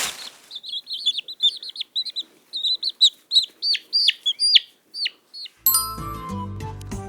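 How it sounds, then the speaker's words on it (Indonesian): Baby chicks on a farm give a rapid run of high, thin peeps, close and clear, for about five seconds. Then a burst of music cuts in and takes over. "Oh, ini anak ayam."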